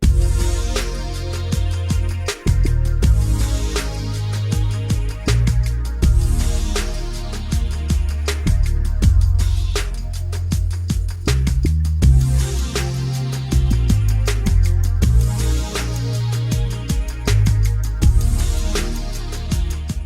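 A later section of Mud from the Command & Conquer: Red Alert soundtrack plays, with a dense, loud electronic groove, driving repeated percussion and layered synths looping in a steady rhythm throughout.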